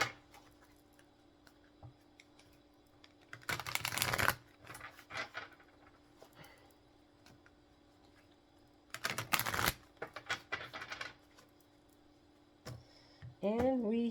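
Oracle deck cards being shuffled by hand in a quiet room, two distinct bursts of riffling and flicking a few seconds each, separated by soft rustling, with a brief voice entering at the very end.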